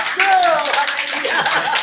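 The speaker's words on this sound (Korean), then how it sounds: "모든 박수 하나님께 영광." A church congregation applauding during a Sunday worship service, a short burst of loud, dense clapping mixed with voices and some laughter.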